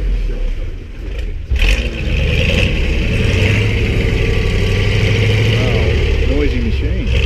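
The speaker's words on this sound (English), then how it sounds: "Someone else revving up next door to us." A powerful speedboat engine idles loudly and steadily, its rumble rising into revving and pitch sweeps near the end, close by and continuous.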